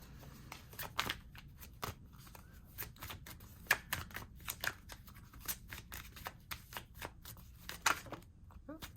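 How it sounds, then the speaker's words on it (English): Tarot cards being shuffled and flipped up close, a series of crisp, irregular papery snaps and flicks with short gaps, fairly quiet, with occasional soft speech underneath. "Cards be flipping out and flipping back."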